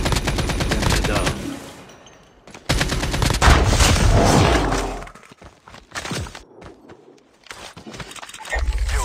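Rapid bursts of gunfire in a video game firefight, loud and dense in the first half, then sparser shots trailing off with short gaps before another burst near the end.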